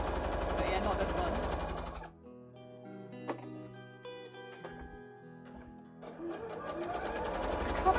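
An embroidery machine stitches in fast, steady mechanical chatter, loud and close, stopping for a few seconds while a plucked melodic tune plays, then starting again at full speed.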